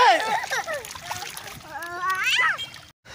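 A child splashes into water, making a brief slosh and splatter close by while children's voices chatter loudly over it.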